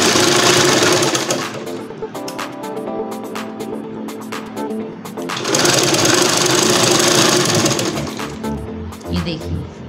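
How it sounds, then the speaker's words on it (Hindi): A sewing machine stitches fabric together with newspaper, a loud, close, rapid mechanical clatter that runs in two long bursts with a short slowdown between them. "पेपर के साथ सिलाई"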